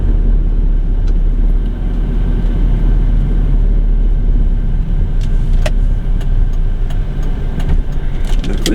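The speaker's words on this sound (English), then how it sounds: "Like a lot of cars at the Blue Bonnet." Steady, loud stream of many cars passing on a busy road near the Blue Bonnet, a continuous rumbling roar of traffic with no pauses and a few brighter swishes of individual vehicles toward the end.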